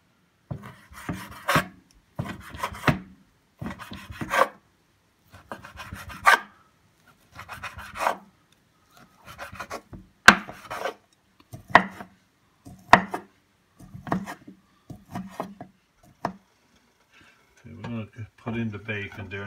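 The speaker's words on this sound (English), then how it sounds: "So we'll chop this up now and get it frying up." A knife chops peppers, cabbage and onion on a cutting board in short, crisp clusters of rapid strikes separated by pauses, close and clear, with a burst of frying sizzle at the very end.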